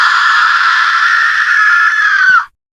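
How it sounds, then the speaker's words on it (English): A ghost's furious scream in a spooky Halloween story, one loud sustained shrill wail held for over two seconds that rises slightly and cuts off abruptly. "the ghost screamed in fury"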